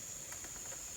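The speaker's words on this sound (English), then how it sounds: "So as you can hear, it is leaking a bit. I believe that's the trigger valve." Steady thin hiss of CO2 gas leaking from the trigger valve of a fully automatic CO2-powered Nerf Magstrike, a constant faint high whistle running alone throughout.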